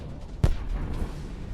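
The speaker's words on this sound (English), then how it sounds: "but the explosion occurs nearby." A tank shell explodes nearby on the Ukrainian front line during a tank duel with Russian armored vehicles: one sharp, heavy boom rises from a rumbling, noisy field background, followed by fainter rumbles.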